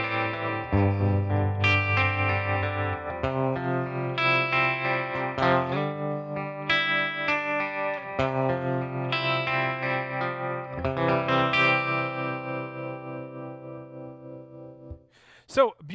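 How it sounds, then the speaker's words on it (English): Electric guitar played through a Milkman Half Pint 5-watt tube amplifier with tremolo and reverb, a sequence of ringing chords and picked notes with a pulsing tremolo shimmer and a reverb tail, fading into a final short thump. "So beautiful sounding tremolo and reverb, and that I truly believe is because they're tube driven."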